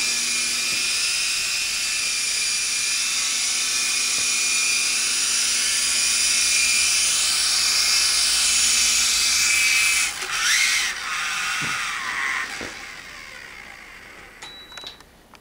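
Blade MCX remote-control helicopter by Flight flying, a steady high-pitched rotor and motor whine held for several seconds, then shifting and dropping as it lands, followed by a few small clicks.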